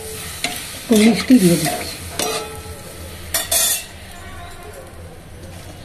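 Hot water hits a sizzling cooking pan in sudden hissing bursts while a utensil stirs and clinks. A person speaks over the cooking sounds.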